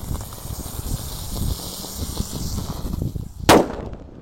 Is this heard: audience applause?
no